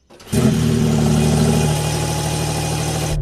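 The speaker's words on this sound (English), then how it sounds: "Let's have a listen to the cold start on this new T-Hybrid engine." A new Porsche 911 T-Hybrid engine cold starts: it cranks and catches about a third of a second in, surging loudly, then settling into a steady, throaty idle.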